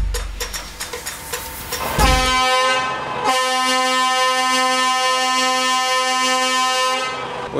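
Vehicle horns honking in traffic at Tanger Med port, a few short toots followed by a long loud sustained blare from a nearby horn.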